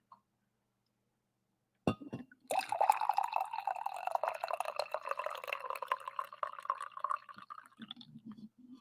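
Coffee is poured into a cup: a soft clink, then a close, trickling liquid stream that bubbles and fills for several seconds before tapering off, with no talking.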